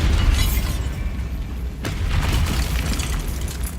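A Bombarda spell explosion in Hogwarts Legacy, a heavy booming blast with crackling debris that stays loud and rumbling throughout.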